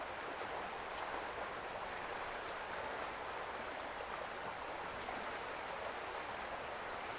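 A river flows steadily at a wastewater sampling site where agricultural and other waste mixes, giving an even, continuous rushing wash of water with no pauses and no voices.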